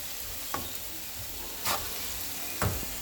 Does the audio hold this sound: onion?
yes